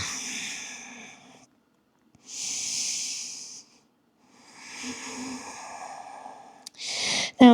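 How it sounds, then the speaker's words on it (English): Deep yoga breathing during a vinyasa flow: three long, close, airy breaths with quiet gaps between them, ending in a sharper, short exhale. "Breathing deeply in"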